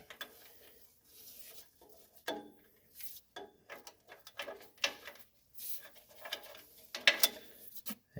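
A fine-tooth Snap-on FKF80 ratchet wrench turns on the PTO drive of a 1964 Ford 4000 tractor during reassembly, giving faint, irregular bursts of small mechanical clicking with short pauses between strokes.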